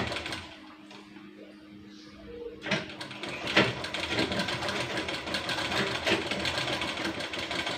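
A sewing machine starts up partway through and runs in a steady, loud mechanical whir while stitching a strip onto a baby kurti, following a quiet opening.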